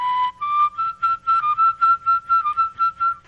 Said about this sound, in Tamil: விசில் மூலமாகவே பாடல்களை எல்லாம் பாடுவாங்க